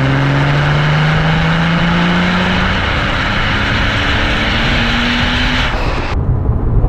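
Car fitted with an Evox exhaust, valve closed, revving, heard as a loud, steady engine roar that holds and then rises in pitch before cutting off abruptly near the end.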